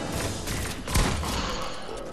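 Gunfire in Fortnite, a short burst of shots with one sharp, heavier report near the middle, set over a steady game-sound bed, with no voices.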